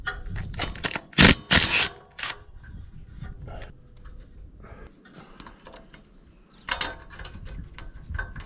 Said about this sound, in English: Now we get to get these injectors out.